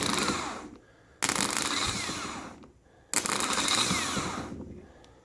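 A Harley Davidson starter motor spins on a bench test, arcing as it runs. Two loud bursts of harsh, buzzing whine each last about one and a half seconds, separated by a short lull.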